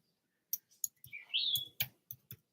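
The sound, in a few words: chickadee calling in the background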